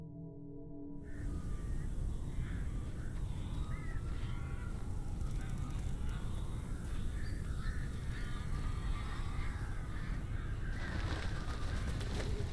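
In the game Alan Wake, a flock of crows caws repeatedly, harsh calls overlapping at moderate distance above a dense, rumbling ambient bed that starts abruptly and continues steadily.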